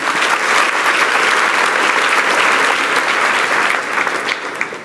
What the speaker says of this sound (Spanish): Y dale un aplauso a Jesús con todo tu corazón.